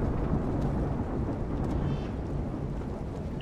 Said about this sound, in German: Jetzt gibt es wieder Gewitter hier. Gewitter!